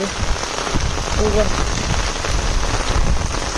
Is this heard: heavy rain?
yes